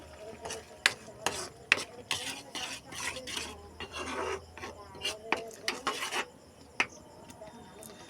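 A spoon stirs boiling milk with a pinch of salt in a pot, giving close, irregular scraping, rasping strokes and clinks of metal against the pan.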